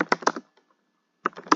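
Java code is typed on a computer keyboard. Two short bursts of close, crisp keystrokes are separated by a brief silence.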